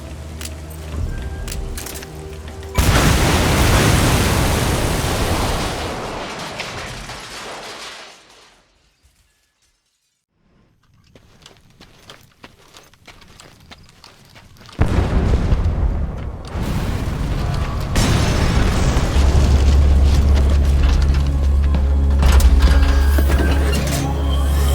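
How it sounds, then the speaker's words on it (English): Explosion of the oily water separator tank in Metal Gear Solid V: The Phantom Pain: a loud, broadband blast hits early, rumbles and decays into near silence, then heavy roaring noise returns and holds to the end. "security will be tighter after that explosion"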